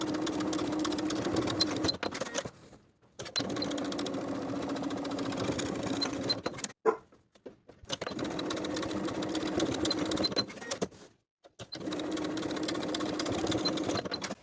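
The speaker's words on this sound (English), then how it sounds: "Along both outer edges of the coin pocket, I'm going to edge stitch close to the outer fold." Sewing machine stitching close to the folded edge of a denim jeans coin pocket, then top stitching, runs in three long steady bursts with brief pauses between them, close and alone.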